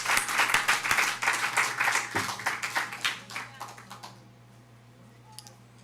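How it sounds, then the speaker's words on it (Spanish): A church congregation claps in brisk rhythm for a few seconds, the applause fading out and leaving near silence with a low steady hum underneath. "¿Quiere dar un aplauso al Señor"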